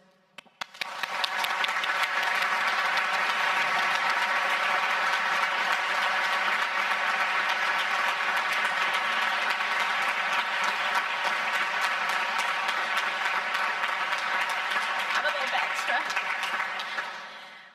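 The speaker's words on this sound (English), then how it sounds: "join me in a round of applause for our loved ones" A dense, steady round of applause fills a hall at a Liverpool University graduation ceremony, swelling up after a brief pause and holding loud and even for many seconds before tapering slightly at the end.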